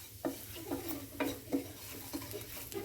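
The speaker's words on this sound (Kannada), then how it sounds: "ಇದನ್ನು ಎಣ್ಣೆಯಲ್ಲಿ ಸ್ವಲ್ಪ ಫ್ರೈ ಮಾಡ್ಕೋಬೇಕು." Coriander, garam masala, chili and turmeric powders frying briefly in oil for a paneer masala gravy, a soft sizzle broken by rhythmic scraping taps of a spoon stirring in the pan.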